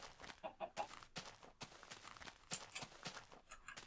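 Black chickens in Minecraft 1.3.1 cluck in a series of short, separate bursts at moderate loudness, with a few soft game footstep-like taps between them and no talking.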